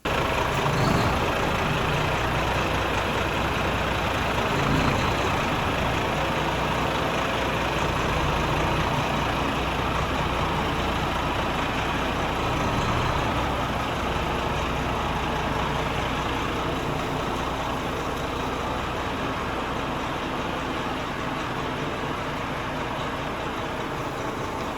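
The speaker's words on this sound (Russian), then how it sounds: "А этот мы сейчас автомобиль будем заводить и выгонять," A car engine idles steadily through a cold-start warm-up, oil temperature low, a continuous low rumble with no talk over it.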